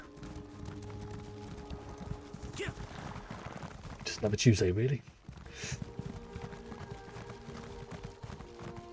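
Horse hooves clip-clopping in a steady rhythm as a rider travels in Elder Scrolls Online, with a brief whinny or shriek midway and someone talking over it.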